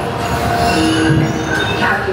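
Magic Kingdom railroad train moving along the track, a loud continuous rumble with metallic clinks and faint wheel squeal, close by.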